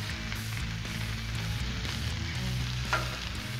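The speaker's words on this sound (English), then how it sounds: "Get an egg going here." An egg frying on a Blackstone griddle, giving a steady close sizzle with a faint crackle and no talk.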